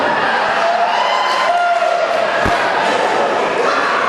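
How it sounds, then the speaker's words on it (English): A loud, packed crowd roars steadily at a wrestling show in Morehead City, North Carolina, with indistinct voices and a few thuds rising out of the continuous din. "This nice crowd here in Morehead City, North Carolina for Shockwave on this episode."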